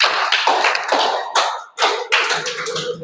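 A small class audience at a church marriage and family session claps to welcome a speaker, in short uneven bursts of hand claps that rise and fade over a few seconds.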